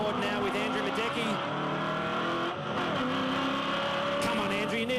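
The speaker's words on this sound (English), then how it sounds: "Come on, Andrew, you need to do a quicker gear change" An onboard V8 Ute race car at Adelaide roars loud and continuous, its engine pitch climbing and then dropping through quick gear changes, while a race commentator talks over the engine.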